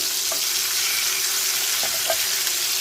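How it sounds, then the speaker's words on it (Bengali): Fish frying in a pan as it is flipped, a steady loud sizzle with a few faint clinks from the turning, and no voice over it. "এই যে আমার মাছগুলো মাছ ভাজিগুলো কী অবস্থা দেখেন এই যে আমি এগুলাকে একটু উল্টিয়ে দিচ্ছি"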